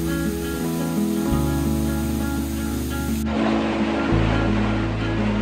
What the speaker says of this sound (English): we're at the North Falls Waterfall. We're sitting right behind them.